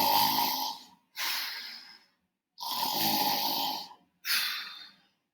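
Four long, rough snores in a steady rhythm, each a loud rasping breath separated by short silences, close and clear with nothing else heard.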